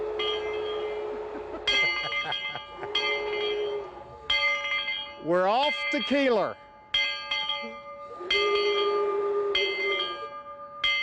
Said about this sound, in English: we're going to fire it up and blow the whistle and ring the bell